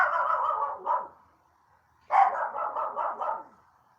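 Dogs bark in two bursts of rapid, yappy barks separated by a short pause, fairly close and loud with no talk.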